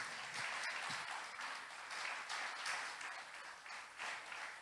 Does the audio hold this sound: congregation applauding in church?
yes